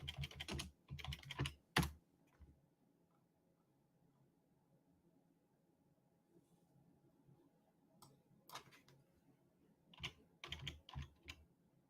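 Quiet clicking of keys on a computer keyboard, in quick clusters at the start and again near the end, with a long near-silent pause between them.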